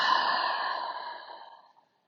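One long, relaxed breath out during a shoulder stretch, a soft airy exhale close to the mic that fades away to silence.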